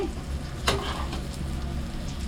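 Raw plantain slices sizzle in hot oil in a pan, a steady dense crackle with a brief louder scrape of stirring near the start, no voices.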